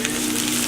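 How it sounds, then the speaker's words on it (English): Vegetables sautéing in a hot pan for a homemade Chinese-style meal, a dense steady sizzle with a low hum beneath it, close and continuous, with no voices. "we're going to go ahead and start to saute these vegetables"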